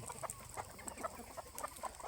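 Chickens fed corn in the morning cluck softly, with short repeated calls scattered over a low farmyard background and no one talking.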